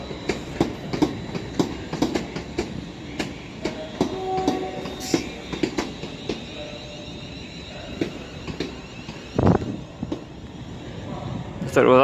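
A train passing through Crewe station, with a steady rhythmic clickety-clack of wheels over rail joints, a brief horn blast near the end and a final squeal, loud and close.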